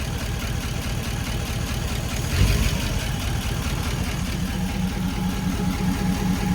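A 1949 Ford Shoebox car engine idles steadily at close range, a low, even rumble with a brief louder bump partway through and no talking.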